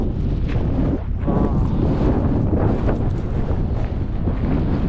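Strong wind roars across the microphone while riding a bicycle down an active volcano in Nicaragua, a loud, continuous buffeting rush with gusty surges and no talking.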